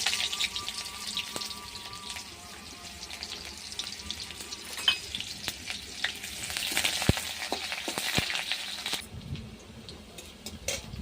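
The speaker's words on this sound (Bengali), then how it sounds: "তেল গরম হয়ে গেছে, দেবো পেঁয়াজ কুচি।" Chopped onion sizzles and fries in hot mustard oil in a kadai, a steady dense crackle with occasional sharper pops and stirring clinks, quieting somewhat near the end.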